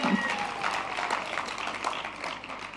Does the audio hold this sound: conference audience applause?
yes